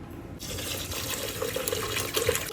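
Water pours steadily into a pressure cooker holding split moong dal and milk for payasam, a continuous close splashing stream running alone throughout.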